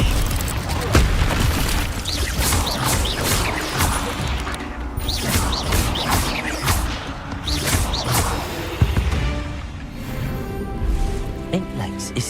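A fire spell being cast in Hogwarts Legacy, a loud whooshing burst amid a busy combat mix of booms and crashes, with a voice speaking over it.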